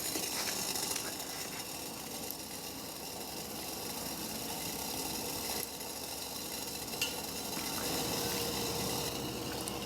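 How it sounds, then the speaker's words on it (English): Water boiling in an uncovered pot on a DIY wood gas pellet camping stove, a steady rushing bubble and hiss with faint crackles, continuous and fairly quiet throughout. "I just took the lid off and so you can tell it's still boiling real well."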